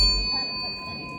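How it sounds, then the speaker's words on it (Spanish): A small bell gives a single bright ding inside a church, and its clear metallic tone rings on steadily and slowly fades over about a second, with no voices. "Suena bien bonito la campanita."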